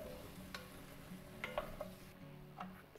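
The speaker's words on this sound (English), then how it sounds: "Again, give it a stir." A spoon stirs squash soup in a cooking pot, giving soft scraping and clinking sounds at a gentle pace over a faint background, with no talking.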